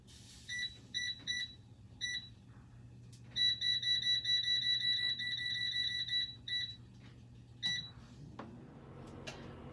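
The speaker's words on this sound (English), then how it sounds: "I'm going to set the timer for 30 minutes at 350 degrees" An oven timer beeps in a kitchen, short bursts of high electronic beeps followed by a longer continuous run of beeping, fairly faint over a low background hum.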